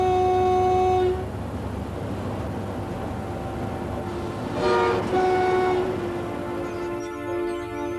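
A British Rail Class 91 electric train accelerates with a steady, close tonal drone and rumble. A loud horn-like tone opens the sound, and the pitch shifts as the train gathers speed.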